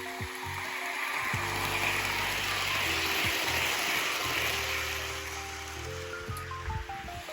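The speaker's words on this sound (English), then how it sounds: "the train clattering along the track" A model train clattering around its track on a hardwood floor, a steady rolling rattle with a low motor hum and shifting tonal whine, continuous and fairly close for the whole stretch.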